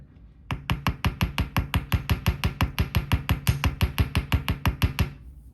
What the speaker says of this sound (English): you just want to give this little spiral in the center a little bit of a tap